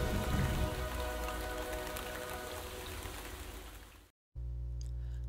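Steady rain falling on a surface, a dense even hiss of many drops that continues for several seconds, drops out briefly near the end, then resumes with a low rumble, with no voices.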